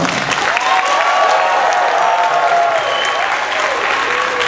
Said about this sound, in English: Can you show them what a healthy round of applause sounds like?